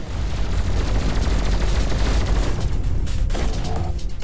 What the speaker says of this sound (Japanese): なんかたくさん爆発してる